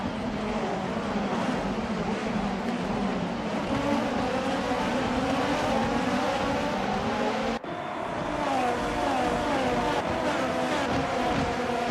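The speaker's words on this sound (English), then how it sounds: "Sound of these inline fours in these Formula Hololive Japan cars never failed to entertain all of us" Formula Hololive Japan race cars with inline-four engines lapping the Tsukuba circuit in a continuous loud drone, engine notes layered and shifting as cars pass, with a brief dip around the middle before the roar resumes.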